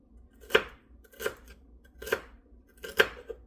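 Celery stalks cut in half with a knife, four crisp chopping strikes spaced evenly at about one per second, close and clear with no talking.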